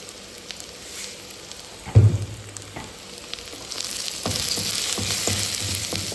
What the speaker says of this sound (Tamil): வெங்காயம் கொஞ்சம் வதங்கிடுச்சு. இந்த அளவுக்கு வதங்கினா போதும், ரொம்ப வதங்க தேவையில்லை.